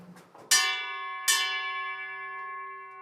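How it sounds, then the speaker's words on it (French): Two clear bell strikes ring out, each with a sharp metallic onset and a long shimmering decay, following a brief murmur of voices at the start. "J'entends sonner une cloche"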